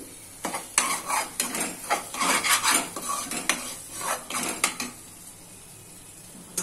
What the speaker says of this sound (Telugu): దీన్ని మళ్ళీ ఒకసారి మిక్స్ చేసుకుందాం